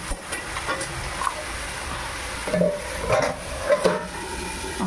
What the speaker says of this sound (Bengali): এখন এটা ভাজা হবে।